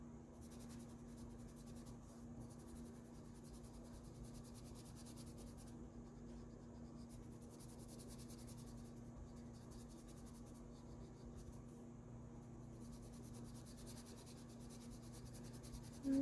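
Brutfuner oil pencil scratching across paper while swatching, a continuous faint dry scratchy rubbing over a low hum, close and quiet.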